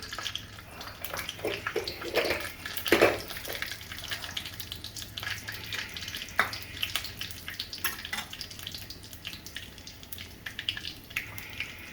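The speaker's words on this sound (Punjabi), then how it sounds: "ਹੁਣ ਅਸੀਂ ਜੀਰਾ ਪਾਵਾਂਗੇ ਤੇ ਹੁਣ ਜੀਰੇ ਨੂੰ ਥੋੜਾ ਜਿਹਾ ਭੁੰਨਾਂਗੇ" Cumin seeds roasting in hot oil in a wok, a soft continuous sizzle with scattered crackles and a louder clatter early on, close but fairly quiet.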